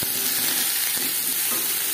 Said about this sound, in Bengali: লবণ হলুদ দিয়ে পটল ভেজে নেব।